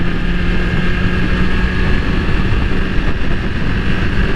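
A BMW S1000RR motorcycle is ridden at speed, its engine a loud, steady, close roar blended with rushing wind, unbroken throughout and with no talking.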